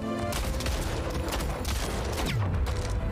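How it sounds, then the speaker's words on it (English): Shotgun blasts crack out in the first-person shooter Splitgate, loud and close, layered among rapid bursts of other gunfire and a descending whoosh near the end of a busy firefight. "Whiffed my shotgun shot."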